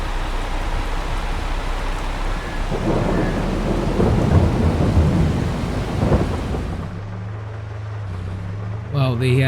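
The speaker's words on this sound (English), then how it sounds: "The heavens have opened up and it started raining." A thunderstorm with rain in the Farming Simulator 22 video game: steady rainfall under a long, rumbling roll of thunder that swells and fades, followed by a low vehicle hum and a brief voice at the end.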